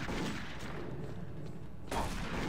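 Enemy gunfire in the DOOM video game, a dense, continuous loud rattle of shots and blasts with a sharper burst near the end, with no talking.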